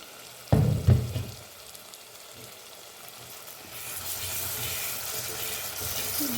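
Food fries in a pan with a steady close sizzle that swells and brightens after a sharp clatter near the start, continuing loud and unbroken.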